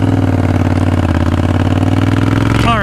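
A Triumph Bonneville T120 motorcycle engine runs loud and close with a steady throbbing idle, a brief rise in pitch near the end.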